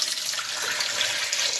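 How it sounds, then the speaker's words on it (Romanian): Water poured steadily into a pan of new potatoes, a continuous close hissing splash with no talking. "O să punem apa, eu mi-am pregătit aici așa apa."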